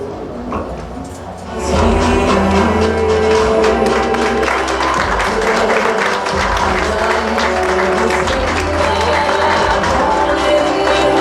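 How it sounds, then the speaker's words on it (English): Audience applause at an award ceremony honoring bridge builders, starting softly and swelling after a moment into steady, loud, sustained clapping from a sizable crowd that continues to the end. "So let's give him a big round of applause."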